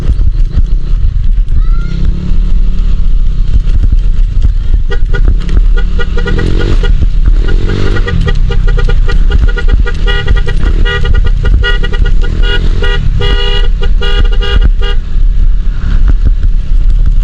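Motorcycle engine droning steadily on a rough road leading to a cave, loud and continuous, with occasional horn-like toots and faint voices mixed in.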